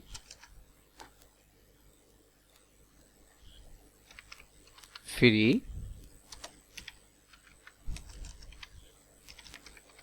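Soft, quick key clicks come from a computer keyboard as a Google search is typed, scattered in short bursts across the quiet with a brief voice in the middle.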